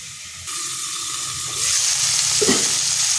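Shukto vegetables stirred in a pan after the lid comes off, a steady close sizzle with soft scraping and a brief clatter near the end, no talk.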